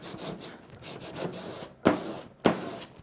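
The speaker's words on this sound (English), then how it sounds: "now you can take your burnishing tool and burnish it right down" A burnishing tool rubbed over vinyl, giving several soft scraping strokes followed by two sharper, louder swipes near the end, close and alone.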